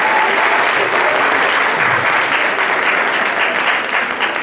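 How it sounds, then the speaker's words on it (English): An audience applauds a guest at a talk, dense and sustained clapping that fills the room from start to finish without any voices on top. "let's give Xavier another round of applause"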